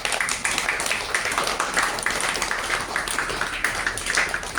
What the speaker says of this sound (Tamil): எல்லாரும் நம்ம கைத்தட்டி நன்றி சொல்லுவோம்